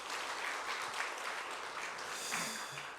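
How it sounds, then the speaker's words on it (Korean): Church congregation applauding the mothers on Parents' Day, a dense, even patter of many hands clapping throughout, moderately distant. "우리 교회보다 어머니들 수고 많으셨다고 박수로 한번 격려하도록 하겠습니다"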